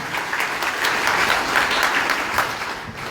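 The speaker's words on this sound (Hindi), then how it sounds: "जोरदार ताली बजा के अपना अपना स्वागत करें।" Loud, dense applause from a seated crowd at a one-day party workers' meeting in Azamgarh, steady clapping that holds for several seconds with little talk.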